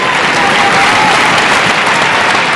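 Applause from the arena crowd at a badminton world championship men's singles final, a dense sustained clapping that stays loud and steady throughout.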